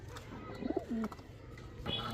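At a pigeon farm keeping Pakistani Teddy, Gorra, Kaldam and Giribaz pigeons, a single soft, low coo rises briefly, faint and fairly close, against quiet room ambience.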